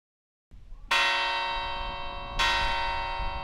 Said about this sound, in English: you'll know when it's time to eat when the big bell is rung